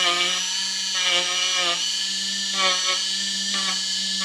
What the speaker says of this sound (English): I'm just knocking off the high spots with this coarse sanding drum.